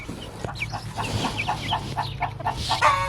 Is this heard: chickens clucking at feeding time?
yes